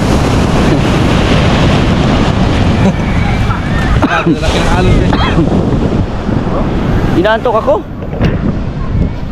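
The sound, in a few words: sea waves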